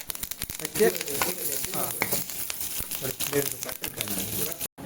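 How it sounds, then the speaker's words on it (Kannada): Mustard seeds, urad dal and chilli crackle and sizzle in hot oil as a tempering, a busy popping hiss with rustling stirs. "ಸಾಸಿವೆ ಉದ್ದಿನ ಬೇಳೆ ಮೆಣಸು ಹಾಕಿ ಒಂದು ಒಗ್ಗರಣೆ ಮಾಡ್ತಾ ಇದ್ದೇವೆ"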